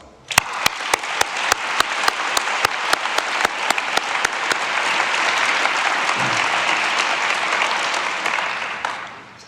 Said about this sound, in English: we should start by giving a round of applause to all young botanists that participate in this